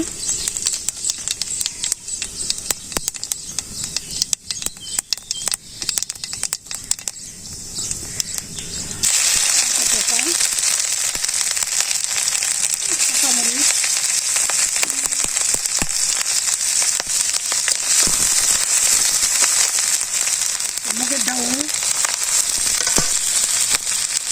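Whole cumin seeds dropped into hot pure mustard oil in a Bangladeshi village kitchen, a loud steady crackling sizzle that jumps up sharply partway through and carries on with bright hiss and popping.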